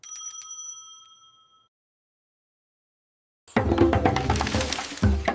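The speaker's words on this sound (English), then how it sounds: "And ring the bell. Ding dong." A single bright bell ring chimes out with several clear tones and fades away, followed by silence and then a sudden loud, dense burst of sound.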